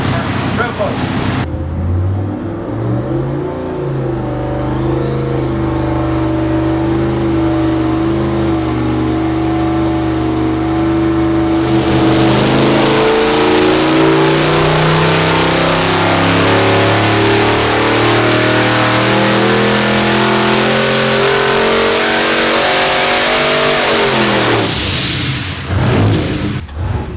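Turbocharged car on a dyno, engine loud and close as it revs up in one long pull over about twenty-five seconds, with turbo whine rising and then dropping off at the end.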